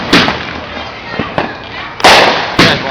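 Fireworks at a Detroit block party go off in about five sharp, loud bangs at uneven intervals, with voices heard between them.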